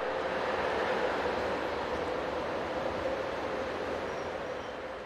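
A train enters a station hauled by German electric locomotive 101013, the 05:30 Nuremberg to Hamburg service: a steady, loud rolling rumble with broadband wheel and rail noise holding throughout and easing off slightly toward the end.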